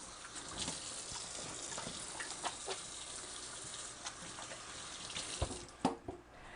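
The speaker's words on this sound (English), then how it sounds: "Now I'm going to wash my hands" A faucet runs quietly into a sink as hands are washed before rubbing butter into flour. The water makes a soft, continuous splash with a few louder knocks and splashes near the end, and no one speaks.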